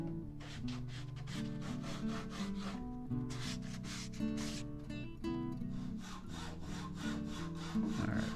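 Hand sawing through wooden hatch shelves for a stitch-and-glue kayak, rapid rhythmic back-and-forth rasping strokes, close and steady with no talking.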